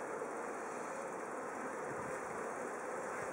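Honey bees crowd a hive frame around their queen, giving off a steady, dense buzzing hum that stays even and close throughout, with no voices.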